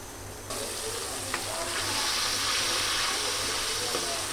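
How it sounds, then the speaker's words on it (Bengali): Spice paste fries hard in a pan, kashano masala style, a loud dense sizzling hiss that swells after a sudden onset and holds steady throughout. "এটার যখন শব্দ হয়, কষানোর শব্দ, তখন আর আমার আওয়াজ শোনা যায় না"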